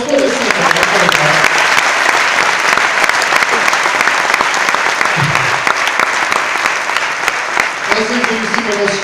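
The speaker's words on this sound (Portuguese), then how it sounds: "Uma salva de palmas para elas" Loud, sustained clapping from a comedy show audience, dense and continuous, with a few voices briefly rising above it near the start and end.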